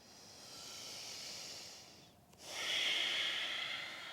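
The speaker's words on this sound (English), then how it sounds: "Find a couple breaths" Slow, audible breathing during a calming yoga practice, a long airy inhale, a brief pause, then a fuller hissing exhale, close and fairly soft with no talk.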